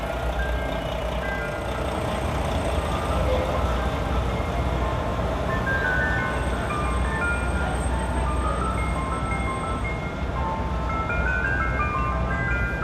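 An ice cream truck's tinkling chime melody of The Entertainer plays steadily on a busy Manhattan street in the Financial District, heard over a constant rumble of traffic and city noise.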